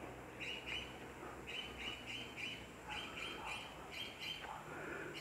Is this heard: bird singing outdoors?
yes